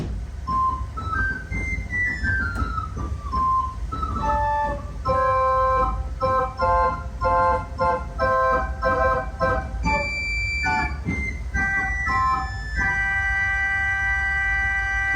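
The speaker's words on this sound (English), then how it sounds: "It sounds a bit like a penny whistle, which is, I suppose, piccolo." Bright, high, whistle-like pipe tones from a 2-foot piccolo organ stop on the swell play a short melody of sustained notes, thin and flute-like, with no voices.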